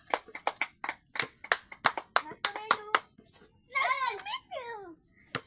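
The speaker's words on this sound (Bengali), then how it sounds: "অহনুল্লাহকে সবাই হাততালি দাও।" A run of about a dozen sharp, evenly spaced hand claps from a small group honouring the first-place winner of a children's football match, followed by a child's high, sing-song voice.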